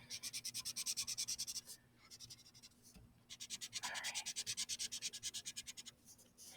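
Marker scratching back and forth over crayon on paper, a close, rhythmic series of rapid strokes in two long bursts separated by a brief pause, with no voice.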